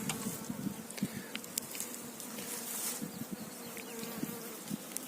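Many bees hum in a continuous close buzz at a beehive in an apiary during a spring inspection, with individual insects droning past now and then.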